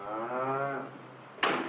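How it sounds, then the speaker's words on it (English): A milk cow on a 1950s Kansas wheat farm moos once, a close, clear, tonal call lasting nearly a second, followed by a short wooden knock. "a few milk cows help the family budget"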